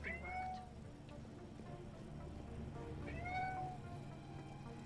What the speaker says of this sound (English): Have a cat that's demanding